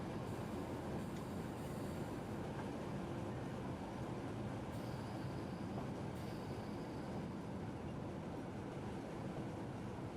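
A train braking in Train Simulator 2017 on the Hamburg to Lubeck route: a constant, dense rolling rumble of wheels on rails, with faint high squeals coming and going over about ten seconds, and no talking.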